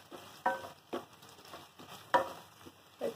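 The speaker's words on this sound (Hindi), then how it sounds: "अब इस सारे मसाले को अच्छी तरह से भून लीजिए।" Spice masala is stirred and roasted in a pan for dal dhokli. A spoon scrapes in short, irregular strokes over a soft, low sizzle, close and fairly quiet, with no talk.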